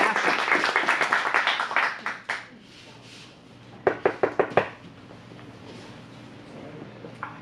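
Sparse clapping from a small audience at an adult improv class, a quick burst of rhythmic claps that fades within two seconds, followed later by a few louder isolated claps in a quiet room.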